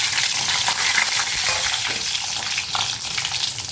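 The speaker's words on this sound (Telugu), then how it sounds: "దీంట్లో మనం ముందుగా తీసి పెట్టుకున్న తాలింపు గింజలు అన్నీ యాడ్ చేసేసుకోవాలి." Tempering seeds sizzle loudly in hot oil for eggplant fry, a dense, steady crackling hiss that fills the whole stretch with faint spatula stirs underneath, and no voices.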